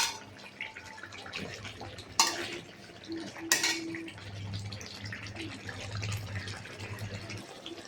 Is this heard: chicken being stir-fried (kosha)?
yes